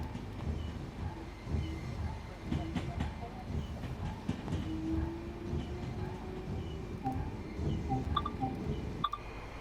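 British Rail class 377 unit 377416 in Train Sim World 2 runs with a continuous low rumble and rolling noise, scattered clicks and faint rising tones, steady and close throughout.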